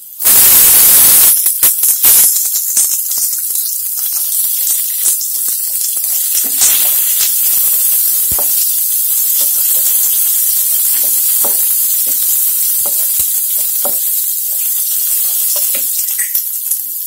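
Capsicum tossed into a hot pan with chopped ginger while making aval upma, a loud burst of sizzling at the start settling into a steady, close frying hiss with scattered small crackles, no talking.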